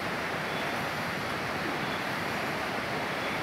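Damoro River flowing through the mountains of South Sulawesi, a steady, unbroken broadband rush of water with no breaks or voices, close and fairly loud throughout.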